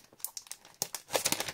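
Glued packaging on a sticker book of about 900 stickers being pulled open, giving a short burst of close crinkling and tearing crackles that bunch up toward the end.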